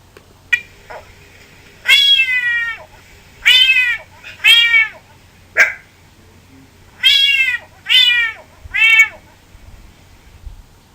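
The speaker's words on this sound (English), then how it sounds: "That would be the sound of the Cuban tree frog's call, which is commonly compared to the sound of a meowing cat" Cuban tree frog calling at night in Florida, a series of loud, nasal, meow-like wavering cries repeated in groups of two or three with short pauses, close and alone over faint background hiss.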